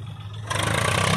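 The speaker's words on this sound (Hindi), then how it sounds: "Putting back tractor with trolley." Swaraj 744 FE tractor reversing with a heavily loaded trolley, its diesel engine idling in a low throb before the revs rise sharply into a louder, rougher clattering roar.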